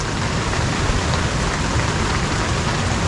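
Heavy rain falls steadily at a mountain campsite near Ranca Upas in Ciwidey, a dense, unbroken hiss of drops drumming on surfaces, loud and constant with no voices.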